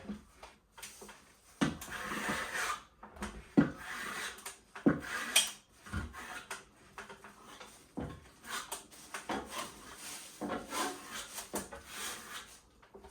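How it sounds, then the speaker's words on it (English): A steel plastering trowel scraping and smoothing firmed-up plaster along a curved edge, with repeated rasping strokes in an uneven rhythm, close and moderately loud. "we can be quite aggressive with the toe of the trowel just to make sure it's nice and neat"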